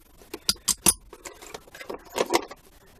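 Kobalt Pro90 ratchet set coming out of a plastic storage case: a few close metallic clinks and rattles in small bursts, with soft plastic rustle between them and no talking.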